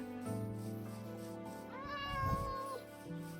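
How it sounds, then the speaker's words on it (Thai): A cat in the Minecraft video game meows, several drawn-out tonal mews one after another over a quiet game background, with no speech. "นั่นไงแมว"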